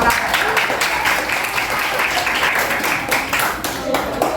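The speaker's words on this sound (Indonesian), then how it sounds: "berikan tepuk tangan anak." Children in a classroom applaud together, a steady dense patter of many small hands lasting several seconds at close range, with faint voices mixed in.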